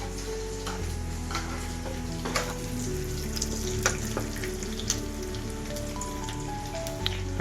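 Tempering spices crackle and sizzle in hot oil as they are poured over Kerala beef roast, a steady close frying hiss with scattered sharp pops and ticks that continues evenly without talk.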